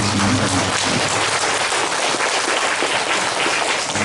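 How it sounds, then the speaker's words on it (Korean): Church congregation applauding senior pastor and a regional leader after speeches at an installation service, a dense steady wash of clapping that fills the whole moment at even loudness, with no voices over it. "우리 강종원 원로 목회자님 그리고 박내연 육대포 지부장님께도 감사의 박수를 보내주십니다"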